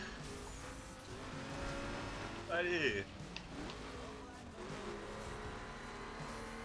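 Cars race in a video game, with engines droning and a brief, loud tire squeal in the middle, while a player talks over the action.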